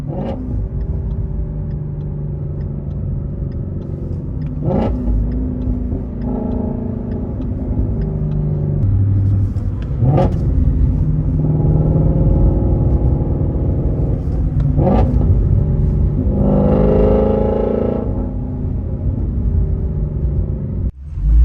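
A Shelby GT350 with a modified exhaust rumbles steadily while backing up a driveway on a hot day, with several sharp revs rising out of the loud, continuous engine drone.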